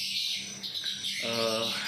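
Swiftlets arriving: bird chirps and tweets ring out nearby over a high hissing twitter, with a brief harmonic call toward the end.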